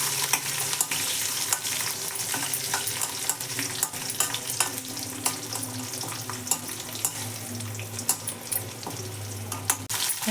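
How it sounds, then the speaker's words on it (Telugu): Green chilies frying in hot oil with dried red chilies and curry leaves for a carrot fry tempering, a steady soft sizzle with frequent sharp spatters and occasional stirring scrapes, close and alone. "కొంచెం పచ్చిమిర్చి వేగనివ్వండి"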